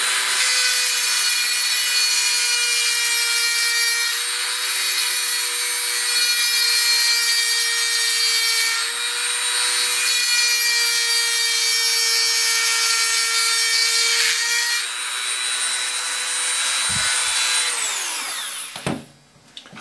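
An aluminum part being cut with a power tool, giving a steady, loud, high whining drone with a rasping edge for about seventeen seconds before it abruptly cuts off and winds down.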